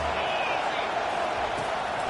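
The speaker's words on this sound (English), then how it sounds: "Here comes the crowd trying to make it tough on 3rd and long." A football stadium crowd roars continuously on a third-and-long play in a Tennessee versus Texas game, a dense, distant wall of cheering and noise with no clear individual voices.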